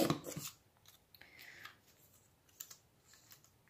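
Scissors snip the ends of a paper banner, a loud close cut at the start followed by a short rasping slide and a few quieter clicks and rustles.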